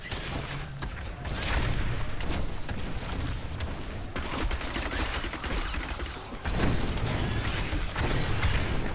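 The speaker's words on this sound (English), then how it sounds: "Explosions." Explosions in Diablo 3 Reaper of Souls roll on continuously in dense crackling, rumbling bursts with mechanical clatter, loud and unbroken for several seconds, with no talking.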